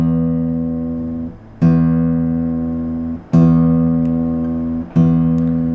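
Three plucked guitar chords sound one after another at an unhurried, even pace, each ringing out and slowly fading before the next.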